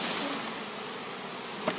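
Honey bees stirred up inside a screen box during a removal from floor joists give a steady, dense buzzing close by, with a brief knock near the end.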